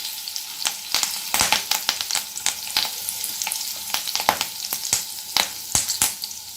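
Chopped curry leaves frying in hot oil for vada pav, a steady close sizzle broken by sharp crackles and spatters and a few stirring scrapes, with no voices.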